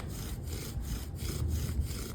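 A wooden bow drill turns a yucca spindle against a cottonwood hearth board, making a steady, close, rasping friction grind with a back-and-forth rhythm from the bow strokes, heard alone.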